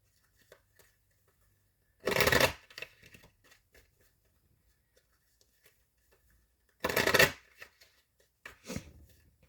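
Tarot cards are shuffled in two short, loud riffling bursts, with a smaller rustle near the end, separated by quiet stretches of faint handling noise and no talk.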